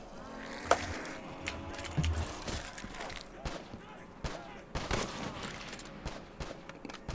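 A zombies video game mode plays gunfire in scattered shots and bursts, mixed with game noise and players talking over it, at moderate loudness.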